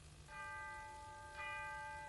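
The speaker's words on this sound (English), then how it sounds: "Chiming midnight." A bell chimes midnight, two clear, ringing strikes with long sustained tones that hang in the air over a low background rumble, fairly faint and with no voices.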